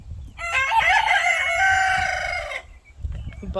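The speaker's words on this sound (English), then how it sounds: "I got one rooster in here and one in the other." A rooster crows once inside a coop, loud and close, a long harsh drawn-out call lasting a couple of seconds, with soft rustling before and after.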